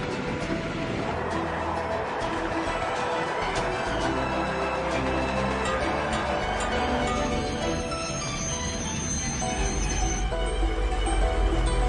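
Train at a railway station in Ujjain, with loud, continuous rumbling and squealing wheels that stay steady throughout.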